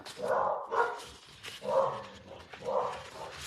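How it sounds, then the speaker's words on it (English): Muffled dogs barking in a few bursts, somewhat distant and low in level, with no talking. "can you hear those dogs barking?"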